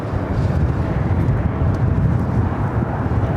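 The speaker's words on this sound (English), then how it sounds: "The flight Delta Airlines at 2114 coming up from Minneapolis, 737-900 ER." A Delta Airlines Boeing 737-900ER jet arriving at LAX on a windy day gives a loud, continuous broadband roar with no breaks and no voices.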